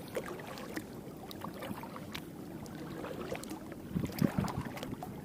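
A boat is paddled around Lake Hammond, with a steady wash of water sloshing against the hull and light wind noise, and a few louder splashes near the end.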